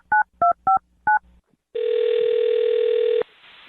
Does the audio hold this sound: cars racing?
no